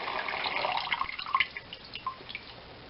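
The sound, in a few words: bone broth draining from a lifted colander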